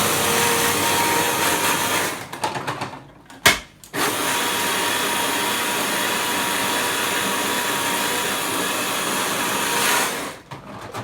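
Food processor blitzing dates and nuts, a steady loud whirring grind that runs almost continuously, with a brief stutter and pause partway through before resuming.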